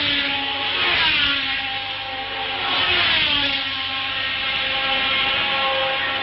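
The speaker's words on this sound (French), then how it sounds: "le moteur de Claire Regazzoni semble émettre un son assez curieux" Engine of a Formula 1 car in the 1971 Spanish Grand Prix at Montjuïc, making an odd, uneven noise; a loud, continuous engine drone that swells and fades over several seconds, heard alone.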